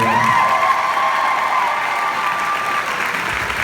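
A convention panel audience at a fan days event breaks into loud, sustained applause and cheering, dense clapping with whoops filling the room, a brief high whistle-like tone riding over it.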